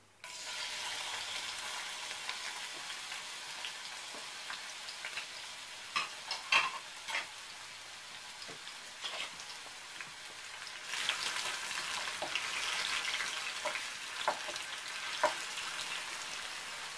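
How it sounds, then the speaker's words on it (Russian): Chopped champignon mushrooms fry in vegetable oil, a soft continuous crackling sizzle with occasional sharp pops and stirring taps, rising in intensity partway through, fairly quiet and without talk. "Обжариваем шампиньоны на растительном масле."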